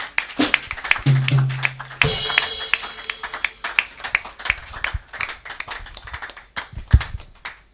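A church congregation claps and acclaims during a French-language service, rhythmic clapping carrying through the whole stretch with a brief tonal note early on and a sharp burst around the two-second mark.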